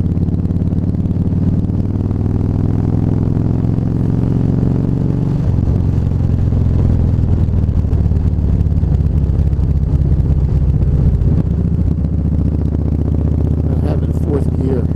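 A Honda Vaquero motorcycle engine, dyno tuned, pulls steadily in fourth gear up a steep hill with a low, continuous drone and some wind rush, heard close and unbroken throughout.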